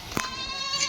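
A young milking goat bleats twice close by, a short cry then a second after a pause, with no talk.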